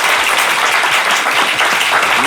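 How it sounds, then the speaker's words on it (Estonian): Loud, close audience applause for a team on a comedy quiz show, a dense burst of clapping lasting a couple of seconds with faint voices mixed in. "Teeme aplausi sinisele tiimile, tuli ära."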